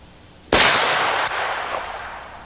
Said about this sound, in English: I'm just going to shoot at that bottle out there.